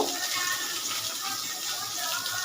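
Ground mustard paste is strained through a sieve, producing a steady, close wet hiss and trickle, like liquid running, that continues without a break.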